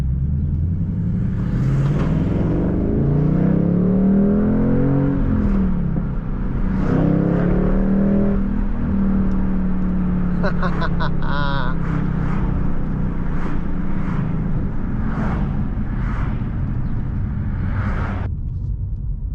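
A 2023 Ford Mustang Mach 1 V8 exhaust rumbles deep and steady while driving, its pitch swelling and dipping as the engine revs rise and fall, with a voice talking over it throughout.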